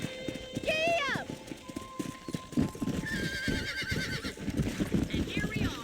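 In the Red Dead Redemption video game, a horse gives a loud high whinny, then hooves clip-clop in a quick galloping rhythm with further neighs over the top, close and clear, with a voice speaking briefly.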